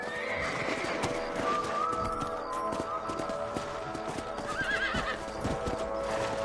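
Horses in Red Dead Redemption, steady clip-clop of hooves with repeated neighs and whinnies over a continuous outdoor bed, loud and close.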